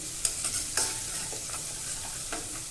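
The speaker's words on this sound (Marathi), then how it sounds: "हिरवी मिरची तेलामध्ये परतताना जरा चांगली परतायची म्हणजे ती बाधत नाही" Green chillies sautéing in hot oil for a potato bhaji, a faint steady sizzle broken by a few soft scraping stirs of a spoon in the pan, with no talking.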